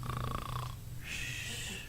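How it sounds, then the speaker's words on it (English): A performer playing Scrooge on stage in a 2014 Christmas Carol production gives a long, loud, rasping snore in bed, voiced as a steady wheezing drone, heard alone. "Scrooge wakes himself from a tough, loud snore, sits up in his bed"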